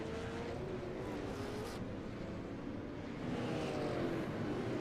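Race cars from an iRacing sim race at Stafford Speedway, a loud, steady engine drone with wavering tire squeal as the pack runs together, building slightly toward the end.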